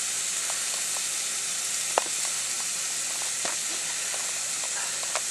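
Onions fry in butter in a pan for breakfast tacos, a steady, close sizzle and hiss with a few faint pops and crackles scattered throughout.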